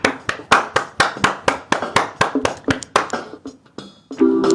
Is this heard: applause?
yes